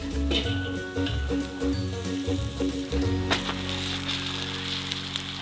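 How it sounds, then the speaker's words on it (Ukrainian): A rolled bacon roulade on a barbecue skewer sizzles steadily over the grill, a continuous close crackle and hiss with a few louder pops. "Шкварчить, як папіроска"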